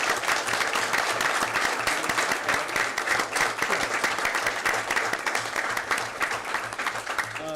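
Sustained applause at a board of education meeting honoring AP Scholars, a loud, even roar of many hands clapping that continues without a break throughout.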